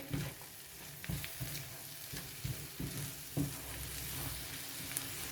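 Potatoes and green chilies are stirred and fried in a pan: a soft, steady sizzle under a series of regular scraping, stirring strokes roughly every half second, quiet and close, with no voices.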